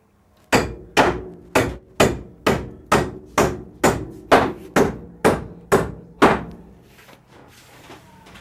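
Twelve even, heavy hammer blows drive home structural timber for a rooftop solar frame, struck in a steady rhythm about two per second and ringing out loud and near before a quiet tail.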